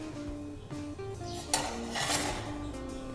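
Metal pot holding freshly baked sourdough bread being handled on removal, with clattering, clinking knocks and scraping of cookware, a few louder bangs in a short close burst, no talking.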